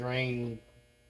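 A household clothes dryer's alarm sounds as a single loud, steady electronic buzz for about half a second, then cuts off, leaving faint background hum.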